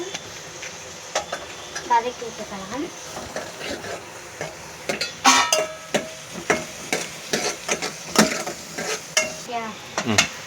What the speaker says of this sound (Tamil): வெங்காயத்தை போட்டு வதக்கி விட்டுக்கலாம்